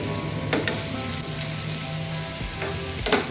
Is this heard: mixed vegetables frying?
yes